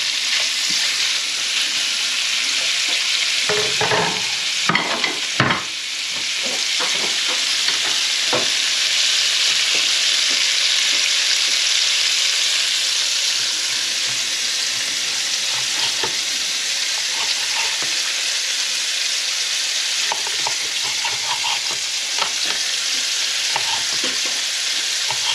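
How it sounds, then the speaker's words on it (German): Beef goulash meat with bacon sears in a hot pan, giving a steady broadband sizzle throughout with a few clinks and stirring knocks near the start. "dann können wir das Fleisch mit dazu geben zum Anbraten"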